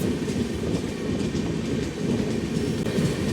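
The Banaras Vande Bharat Express, train 26505, rolls past as a steady, loud rumble with continuous rail clatter, unbroken by talk.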